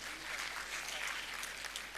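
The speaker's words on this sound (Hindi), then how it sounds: "जोरदार तालियां बजाओ भाई इसके लिए" A short burst of audience applause at a yoga session, brisk and continuous clapping of moderate loudness from a crowd, heard alone.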